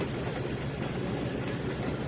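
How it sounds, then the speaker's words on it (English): A simulated train in the Trainz 2019 rail game rolls along with a steady, dense rumble and faint wheel clatter, loud and unbroken throughout with no talking. "This is an inbound train that's now waiting to be cut up by Thomas"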